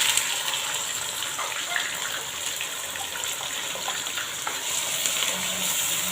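Onions tipped into hot spiced oil for achari arbi, a spicy taro root dish, set off a steady, fairly loud hiss of frying that runs unbroken and holds its level throughout.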